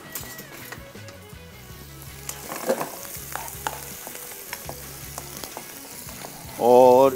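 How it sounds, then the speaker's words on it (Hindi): Chopped garlic and a small chopped onion sizzle steadily in melted butter in a pan, with occasional stirring scrapes and a brief louder burst near the end. "इसमें मक्खन मेल्ट किया, 1 खाने का चम्मच लहसुन और 1 छोटे साइज़ का प्याज चॉप किया हुआ। बस इसको थोड़ा सा हम करेंगे फ्राई।"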